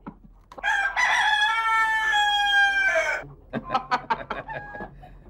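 A rooster crows loudly and close by in one long, sustained call, followed by a run of short clucks and squawks from the bird.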